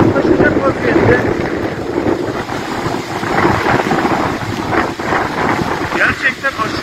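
Strong storm wind buffets the microphone as heavy waves crash onto the shore during a severe storm with rain, forming a loud, continuous rushing roar with surging swells.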